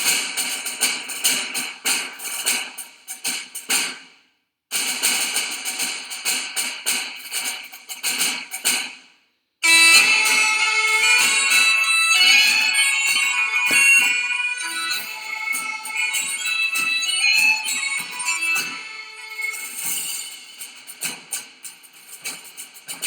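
Upbeat library music track, playing steadily with bright, busy instrumentation, briefly cutting out twice near the start before running continuously at moderate loudness without any voices.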